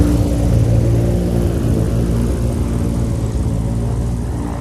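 A Bellanca Scout propeller aircraft drones overhead, a loud steady engine and propeller hum that holds throughout with slight variations in pitch.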